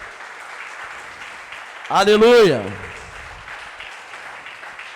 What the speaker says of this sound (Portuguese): Você pode aplaudir o nome dele?